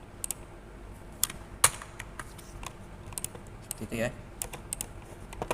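Computer keyboard typing while an IP address is entered for a Mikrotik router setup, scattered light key clicks in short bursts at moderate distance, with a brief spoken phrase partway through.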